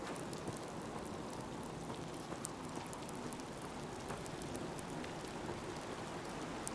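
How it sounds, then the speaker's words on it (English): Steady rain falls in the Fallout 4 video game world, a dense, even patter of drops on surfaces that continues without a break at a soft level. "this place is hard not to get wet because it's always raining"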